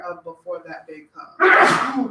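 A single loud, broadband sneeze bursts out near the end, right after a stretch of someone speaking in a quiet room.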